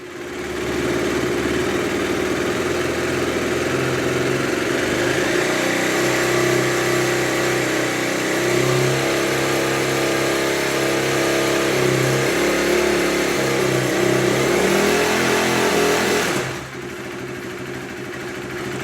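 A KTM 390 motorcycle with an overheating cooling system runs steadily and loudly, revving with a sustained roar for about sixteen seconds before cutting off abruptly.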